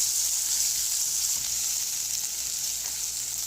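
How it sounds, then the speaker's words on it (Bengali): Sliced onions fry in a pan, giving a continuous even sizzle at moderate level with faint stirring, and no one talks. "আমার পেঁয়াজটা একটু ভাজা ভাজা হয়ে গেছে"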